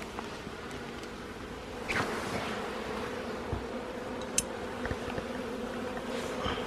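Honeybees buzz steadily around a beehive box, a dense continuous drone with a few brief closer passes, no talking.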